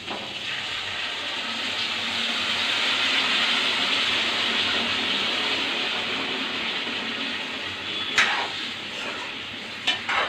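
Hot water pours steadily into a cooking pot of local chicken with sesame, a continuous rushing gush swelling and easing, with a few brief clinks of the pot near the end.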